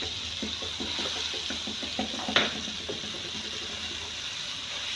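Water is added to ground lentils in a cooking pot while making tadka dal, giving a steady close pouring and stirring wash with soft clinks and one brief splash, without speech.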